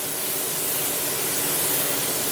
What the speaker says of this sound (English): I'm going to just spray my baking dish, the sides, the bottom of the pan,